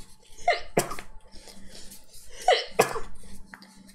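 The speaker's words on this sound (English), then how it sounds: "Ugh, I'm gonna sneeze." A single sharp sneeze from one person bursts out close and loud, followed by breathy exhales and a faint rustle, with no talk over it.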